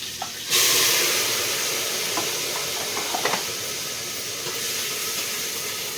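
Cumin seeds and curry leaves hit hot fat with a sudden loud hiss, then settle into a steady, close sizzle with a few faint stirring clicks and no talking.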